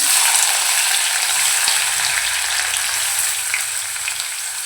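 Finely chopped onion frying in hot oil for a Malvani chicken keema base, a loud, dense, continuous sizzle up close with a brief stir partway through.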